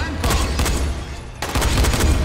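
Rapid bursts of gunfire in the video game Dying Light, two quick volleys separated by a brief pause, sharp and close.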